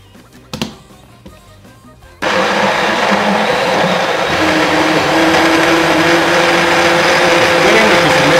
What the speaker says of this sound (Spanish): vamos a mezclar todos los ingredientes en nuestra licuadora